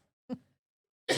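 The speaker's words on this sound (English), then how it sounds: "Sorry about that cough." A single short cough from a nearby person, a brief burst near the start, then silence, followed by another short noisy burst at the end.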